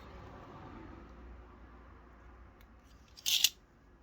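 Scissors make a single quick, crisp snip near the end as the tag end of fishing line is trimmed, a sharp close click above faint background hum.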